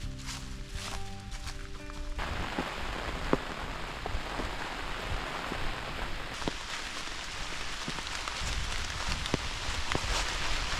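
Steady rain falls throughout a backpacking trip on the Laurel Highlands Hiking Trail, a dense constant patter on surfaces with scattered louder drops, heard alone at close range.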